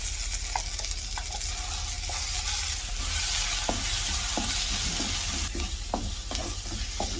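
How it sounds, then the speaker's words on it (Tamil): Mint chutney ingredients sauté in a pan with a steady, continuous sizzle and occasional close stirring scrapes throughout. "இது மாதிரி வதக்கி எடுத்துட்டேன்னா"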